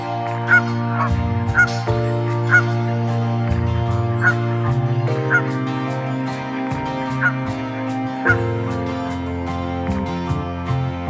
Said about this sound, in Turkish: Gölette yüzen kazlar